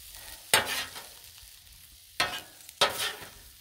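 Shrimp scampi sizzles on a Blackstone griddle, with three sharp bursts of loud frying hiss as the shrimp are stirred and pushed around the hot surface, fading to a quieter sizzle between them.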